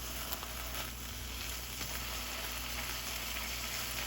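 Burgers fry on a griddle with a soft, steady sizzle that holds evenly throughout, faint and unbroken.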